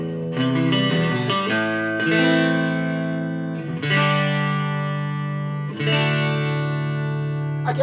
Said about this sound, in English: I'm going to turn the reverb up to full